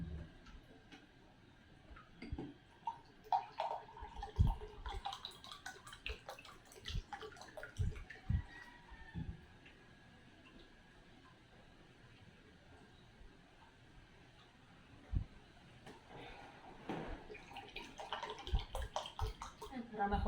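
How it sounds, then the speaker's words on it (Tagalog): Groceries being rinsed under running water at a home sink, with irregular splashing, dripping and clattering bursts close by, a quieter stretch in the middle, and faint background voices. "Hugasan natin bago natin nilagay sa ref."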